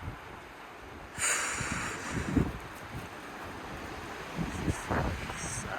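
Strong, gusty wind blows outdoors during a wind advisory with 30 to 50 mph gusts, a steady broad rushing roar that swells in bursts, with no speech.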